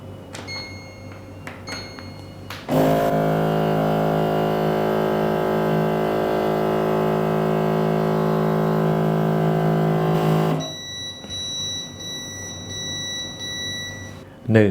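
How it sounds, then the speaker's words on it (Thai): An Airfree R9 vacuum blender pulls air with a loud, steady droning whir for about eight seconds, then falls silent before a few thin, high alert beeps for the Error 2 fault sound near the end. "เมื่อเครื่องดูดอากาศ ไปประมาณ 30 วินาที จะฟ้อง Error 2"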